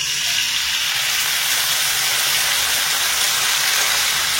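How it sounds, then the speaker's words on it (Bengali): Water hitting hot frying spices and ginger in a pan, giving a loud, steady, close sizzle and steamy hiss that holds evenly throughout without voices. "এবারে এর মাঝখানে সামান্য একটু দিয়ে দিচ্ছি জল।"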